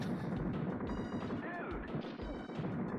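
Several crunchy shrapnel explosions burst in quick succession from the arcade shooter Super Smash TV, dense and loud, layered over constant game sound effects and gunfire during a tournament match.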